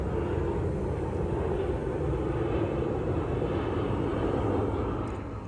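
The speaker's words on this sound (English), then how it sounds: "Pardon the airplane." An airplane drones steadily overhead at an outdoor RC car drift course, a continuous broad rumbling roar at moderate level that holds for several seconds and begins to fade at the end.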